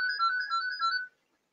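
A telephone ringtone plays a steady warbling electronic tone for about a second and then stops abruptly, alone with no talk around it.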